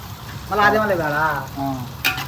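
Chicken with green chillies, onions and garlic frying outdoors in the Kuwaiti desert, a busy sizzle running throughout beneath a voice that hums or talks wordlessly, with a bright scrape near the end.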